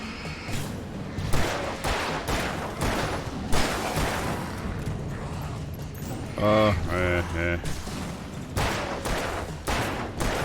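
Rapid bursts of gunfire crack out in Alan Wake Remastered as shots are fired at a rock, loud and repeated in uneven volleys.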